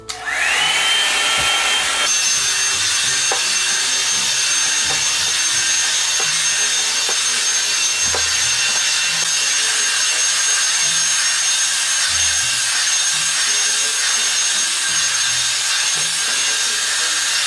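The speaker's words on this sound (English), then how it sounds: "I'm just gonna blow dry and smooth this with this blow drying round brush from Revlon" A handheld hair dryer blows steadily on a wig while a Revlon blow-drying round brush smooths it, a loud continuous whooshing hum close by that shifts slightly in pitch, with faint brushing rubs and light clicks beneath.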